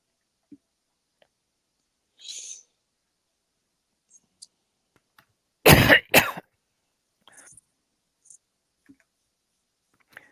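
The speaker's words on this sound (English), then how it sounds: "I'm coughing an awful lot still" A short double cough, close and fairly loud, amid otherwise quiet surroundings with scattered faint clicks and small rustles.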